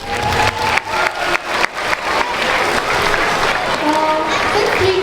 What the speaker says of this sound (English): let's give our round of applause